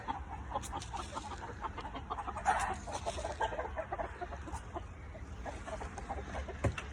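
Backyard chickens clucking in short, irregular bursts, fairly quiet and close, with one louder squawk partway through.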